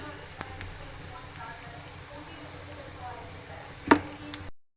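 A spoon stirs turmeric into a spring onion egg fry in a hot pan, giving a soft, continuous sizzle with light scraping and one sharper clink near the end, heard faintly and close.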